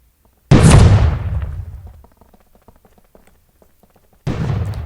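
Loud explosion in the online multiplayer game Hide Online, a sharp blast with a long rumbling decay, followed a few seconds later by a second burst.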